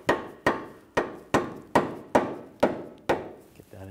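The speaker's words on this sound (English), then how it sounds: "Just give the lower ball joint a tap." Eight sharp metallic hammer taps strike the lower ball joint of a 2013-2019 Ford Escape 2.0L during front CV axle replacement, evenly spaced about half a second apart, close and loud with no talking.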